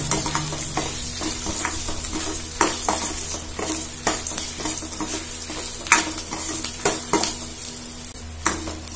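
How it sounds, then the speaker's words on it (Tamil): Spices sizzle and fry in hot oil in a kadai for brinjal podi curry, with a steady crackle broken by repeated scraping stirs of a spoon against the pan, close and continuous with no speech. "இப்போ இதை நல்லா வறுத்துருவோம்."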